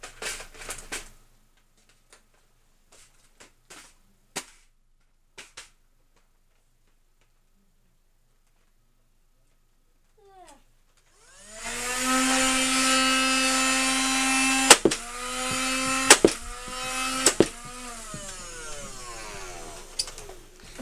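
A Nerf Rival MXV-1200 blaster: a few faint clicks, then its motor whirs up to a loud, steady whine, and three sharp shots crack out at intervals while it keeps spinning.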